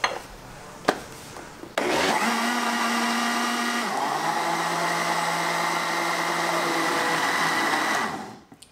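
Electric blender mixing a no-bake, eggless chocolate pudding: after a few clicks, the motor starts and runs as a loud, steady whir for about six seconds, its pitch shifting slightly partway through before it winds down.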